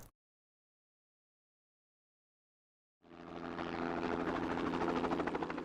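Helicopter flying over New Zealand forest spreading 1080 poison bait, its rotor thudding in after a few seconds of silence, a steady loud chopping drone that holds close for the rest of the clip.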